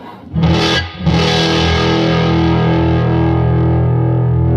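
A loud, heavily distorted electric guitar chord through a 1990 Fender Custom Vibrolux Reverb amp at full volume rings out, briefly cut and struck again, then sustains thick and saturated for several seconds.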